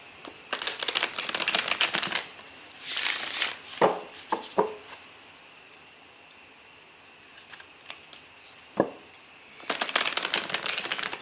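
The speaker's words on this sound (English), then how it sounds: "So we'll go ahead and shuffle these cards a few times." Bursts of tarot cards being shuffled, quick riffling flutters separated by pauses and a few soft taps, close and fairly quiet.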